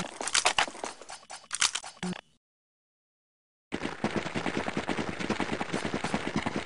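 Rapid gunfire from a first-person shooter, with bursts of sharp close shots, a brief silent gap, then sustained automatic fire at a steady fast rhythm.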